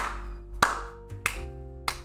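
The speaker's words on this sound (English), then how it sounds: "A round of applause." Three separate sharp claps ring out at a regular pace over a low sustained musical backing, each one short and crisp.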